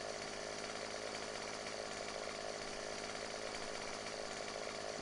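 A chainsaw cuts through a tree in the PS4 farming game Farming Simulator 17, producing a steady, continuous buzzing drone for the whole stretch with no talking.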